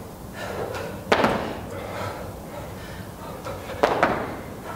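Two heavy thuds land about three seconds apart as bodyweight jump squats come down on the floor during a legs HIIT workout, each impact sharp and close with a short bounce after.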